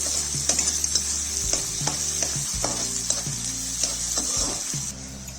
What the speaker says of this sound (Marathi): त्यानंतर बारीक चिरलेला कांदा चांगला परतून घेऊ.